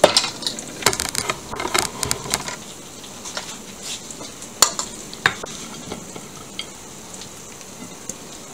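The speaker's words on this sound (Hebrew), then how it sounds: "זה מאוד פשוט לערבב את הכל" A tomato salad with olive oil, lemon and Bulgarian cheese being stirred in a serving dish, with wet squelching and clinking utensil taps in quick irregular bursts, close up, busier at first and then sparser, with no talking.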